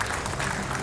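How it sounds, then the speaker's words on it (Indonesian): A studio audience claps briefly, producing a short wash of applause at moderate level. "kita tepuk tangan"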